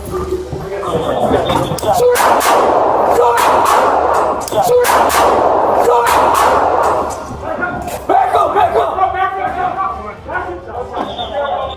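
Gunfire during a police standoff inside a building, heard as a series of loud sharp bangs and cracks over dense, chaotic background noise, with voices talking throughout.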